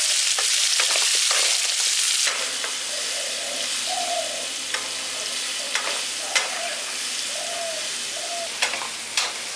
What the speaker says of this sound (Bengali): আমড়াগুলোকে তেলের সাথে দিয়ে হালকা একটু ভেজে নিয়েছি, নাড়াচাড়া করে নিয়েছি।